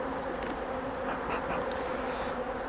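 A steady, dense buzzing of many honeybees close by at a hive during an inspection of a recent split colony, continuous throughout with no voices.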